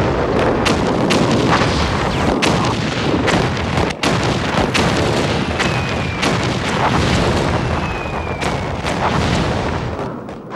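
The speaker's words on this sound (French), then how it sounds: "Les obus tombent avec un fracas épouvantable, dans des nuages de fumée opaque, creusant d'énormes cratères" Artillery shells fired by ever more powerful guns burst on the World War I battlefield at Verdun, a dense, continuous barrage of loud booms and sharp cracks with no let-up, one heavy impact standing out midway, and occasional whistles of incoming rounds.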